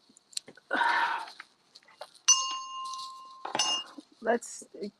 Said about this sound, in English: Let's ring my chakra bell.